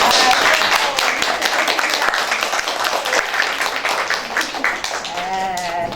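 Parents in the audience at an art master class give a sustained round of applause for the teacher, a dense and steady clapping from many hands throughout.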